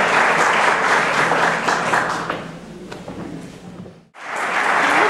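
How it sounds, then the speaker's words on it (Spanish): Audience applause at a Colombian music tribute event, full and steady at first, then thinning and fading out before a short gap and a fresh swell of clapping at the end. "un aplauso también de todos nosotros por esa labor tan importante que hacemos"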